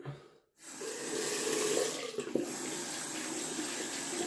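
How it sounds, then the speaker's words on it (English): A shaving brush is rinsed under a running tap into a sink, a steady close rush of water that starts after a brief silence and continues with slight splashing changes. "Just rinsing out my brush down here."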